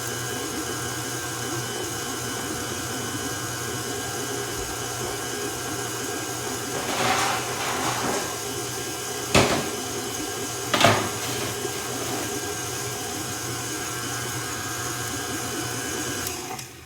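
Electric stand mixer creaming softened butter and sugar at speed 2, a steady even motor whir running throughout with a few brief louder knocks and scrapes midway.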